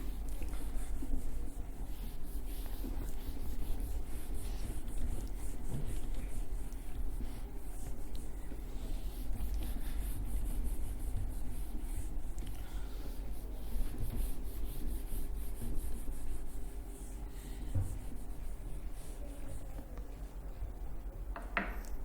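A writing board in a classroom lesson on acids, bases and salts is wiped with a steady, low, continuous rubbing, alone without talk.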